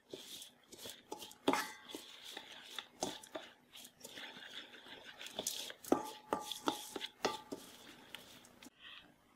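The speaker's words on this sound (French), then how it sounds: "Et je vais mettre un peu d'huile d'olive. Voilà. Et bien mélanger le tout." Artichoke stuffing tossed with olive oil in a bowl, giving a string of clinks, scrapes and knocks from a utensil against the dish at close range, with no talking.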